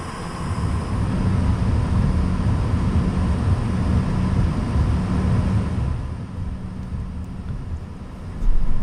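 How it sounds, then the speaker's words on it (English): Loganair Embraer 135 regional jet taxiing out toward the runway, a steady low engine rumble and cabin drone heard from inside, easing slightly partway through before a brief louder swell at the end. "We soon got on our way and taxied out towards the runway."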